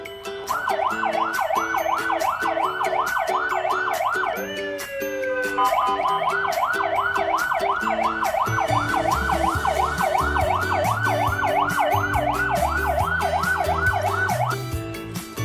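A fire truck siren wails continuously in a steady rising-and-falling pattern with a short break partway, loud and close, over a low rumbling engine and background music-like tones.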